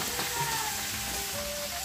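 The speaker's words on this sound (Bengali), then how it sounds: "আর গ্যাসে এখন মাছ ভাজা হচ্ছে।" Fish frying in a pan on a gas stove in a home kitchen, a continuous close sizzle and crackle holding steady throughout, with faint tonal household sounds in the background.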